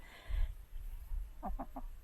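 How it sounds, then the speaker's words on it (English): A chicken about to molt clucks softly nearby, a few short low calls followed by a quick run of three clucks, fairly quiet, on a rural Montana property. "I have my chickens."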